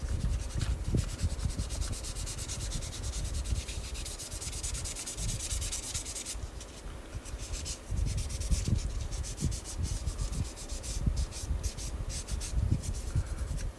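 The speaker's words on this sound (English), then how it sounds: "And then finish it with a fine grit sanding sponge." Fine grit sanding sponge worked over a plastic 1/24 Audi Sport Quattro S1 model kit part, producing soft, steady rasping strokes in a continuous back-and-forth pattern, close and fairly faint.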